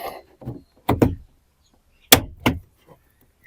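Two pairs of sharp plastic pops sound up close as clips pop out of a BMW X1 E84 rear door panel, separated by a short pause, with faint rustling and scraping between them.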